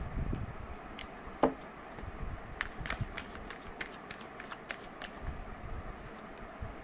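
Tarot cards being shuffled and handled, a series of soft, quick flicks and taps with one louder snap early on, quiet and close against a faint background hum.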